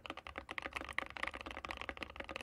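Quick, irregular clacking of keys on a custom computer keyboard, rapid and fairly close, with hard, crisp strikes bunched in bursts and no talking.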